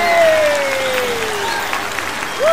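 Audience applause welcoming a male singer at a Lunar New Year 2022 comedy show: a steady, full wash of clapping that runs loud throughout, with a sliding electronic tone gliding beneath and another rising at the end.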